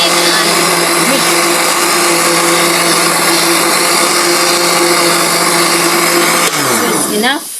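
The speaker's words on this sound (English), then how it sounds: "Let me blend this first." An electric blender whirs steadily at high speed, mixing sugar, margarine and milk for donut batter, a loud continuous motor drone that holds for several seconds before winding down abruptly at the end.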